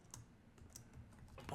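A computer keyboard being typed on, a few quick clicky keystrokes close by and fairly faint, with a bit of speech at the end.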